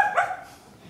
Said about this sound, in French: Un chien errant tourne autour